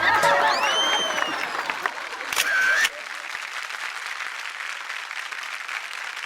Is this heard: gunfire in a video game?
no